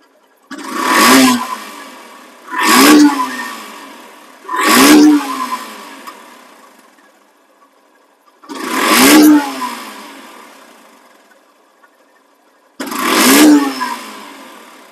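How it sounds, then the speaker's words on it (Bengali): A used Yamaha FZ motorcycle, a 2021 model, is revved in five sharp bursts, each engine roar climbing quickly then falling back to a quiet idle, loud and close with pauses between. "তো বাইকটা এখন সাউন্ড কোয়ালিটি শোনাবো"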